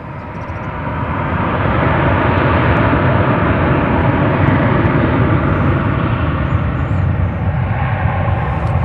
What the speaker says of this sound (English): Off to Tucson goes this Airbus A321.